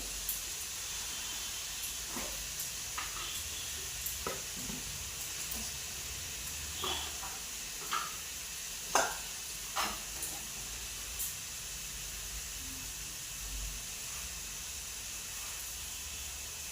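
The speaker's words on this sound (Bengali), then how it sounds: "এরপরে আমি ভালোভাবে এটাকে মশলাটাকে কষিয়ে নেবো।" Onion, ginger and garlic masala frying in a pan for a pona fish curry gives a soft, steady hiss with sparse small pops and crackles. It stays faint and even throughout, with no voices.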